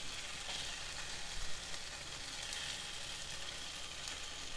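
Mango and tomato pieces fry in a covered pan, giving a steady, moderate sizzle that holds unbroken for the whole stretch with no voices.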